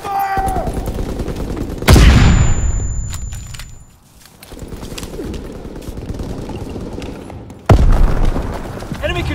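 Gunfire in the World War II shooter Call of Duty: WWII on the Gibraltar map, with sharp loud shots and bursts opening the stretch and returning near the end, plus a sustained rumble of distant battle between them.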